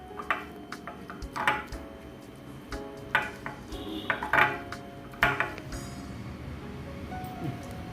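Onion chutney being mixed with salt in a bowl, giving scattered scraping and clinking knocks of a spoon against the dish at close range, with irregular taps spread through the clip.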